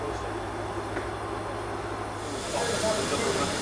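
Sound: steam locomotive hissing on bush railway

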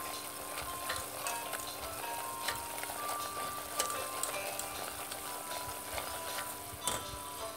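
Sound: onion and flour frying in oil

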